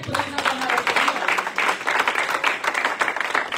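A church congregation bursts into sustained applause and clapping to acclaim the Lord during a French-language sermon, a dense, continuous crowd sound with scattered voices mixed in.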